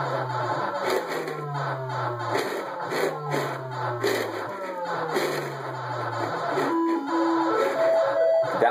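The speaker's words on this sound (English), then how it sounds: "That was the sound of the extra life." Centipede arcade machine in a home game room, its electronic game sounds running continuously with descending tones and blips, followed by a short high rising chime for the extra life near the end.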